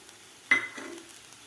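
Fried sabudana being mixed with peanut powder and grated jaggery in a pan: one close, sudden scrape of a spoon, then a short softer rustle that fades to quiet.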